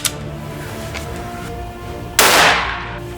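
Sniper rifle firing at a 300 m range: one sharp, loud close gunshot with a burst of reverberant tail, over a quiet outdoor background.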